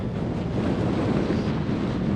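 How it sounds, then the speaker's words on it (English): Strong, steady wind of about 20 mph roars and buffets the microphone without pause near a hilltop at about 750 metres in the Brecon Beacons, a constant low rumble with no voices. "You can tell it's quite windy."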